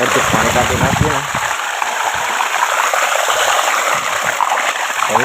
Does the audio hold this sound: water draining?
yes